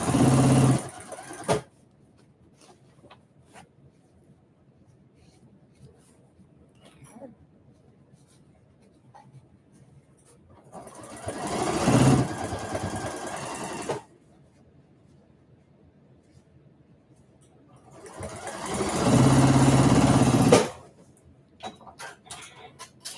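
A sewing machine stitches a seam through thick canvas near the handle of a maker caddy, running in three separate loud whirring bursts of a few seconds each, with quiet stretches between them.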